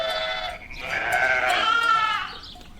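A sheep bleats in one long, wavering, nasal cry that rises in the middle and fades out, close and clear with no voices.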